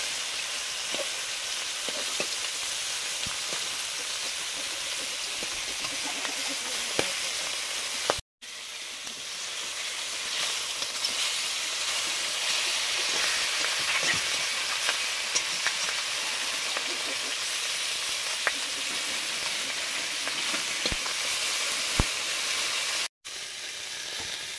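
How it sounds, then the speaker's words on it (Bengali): Fish, such as native catfish and climbing perch, frying in a pan: a steady, loud sizzle and hiss with occasional pops that runs for about twenty seconds. "মাছ ভাজা হয়ে গেল।"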